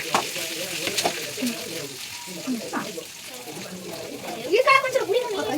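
Garlic and onion frying in a pan for chitranna, a close hiss and sizzle with stirring scrapes running under people talking, swelling louder near the end.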